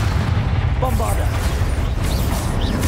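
Bombarda blasting spell explosion in the video game Hogwarts Legacy, a deep booming blast with rumbling low end sustained under brief spoken voices and combat effects.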